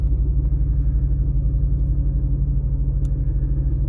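Car with a misfire idling as it pulls out of a garage while warming up; a low, steady rumbling idle with a regular pulsing beat, moderately loud and alone.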